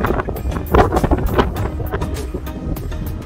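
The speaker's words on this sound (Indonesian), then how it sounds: "anginnya agak lembut" Gusty wind buffets a microphone on a morning walk outdoors, giving irregular low rumbling bursts that swell and fade over a few seconds, with no clear speech.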